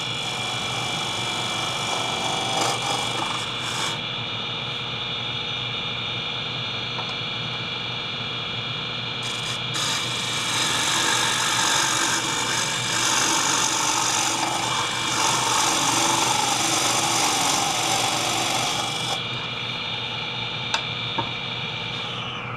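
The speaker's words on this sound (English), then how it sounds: "I'll use the 1-inch scraper to even out the grooves in the bottom" A 1-inch scraper works the bottom of a funneled mesquite bowl, evening out grooves over a steady, loud lathe drone, with a brighter rasping cut that swells in the middle and then eases.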